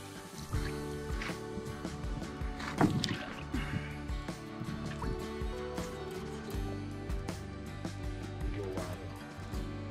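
Canoe paddling on a lake in the Temagami wilderness, with rhythmic paddle strokes dipping and sloshing close by, repeating steadily while the water drips and swishes between strokes.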